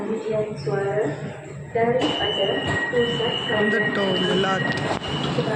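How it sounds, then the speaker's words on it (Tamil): A metro train in Putrajaya, Malaysia rumbles in with squealing, tonal wheel and brake noise while people talk over the din. "ட்ரெயின் வந்துருச்சுங்க"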